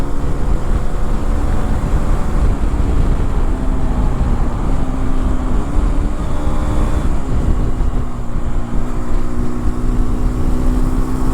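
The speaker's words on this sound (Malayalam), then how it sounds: "ആ ഓരോ റെവ് മാച്ചിങ്ങിലും ആ ഒരു എക്സോസ് ഒരു രക്ഷയില്ലാതെ പെർഫോം ചെയ്യുന്നുണ്ട്" A Hero Xpulse 210 motorcycle engine revs through its exhaust, a loud, continuous drone with rising and falling pitch that fills the whole stretch, with no talking.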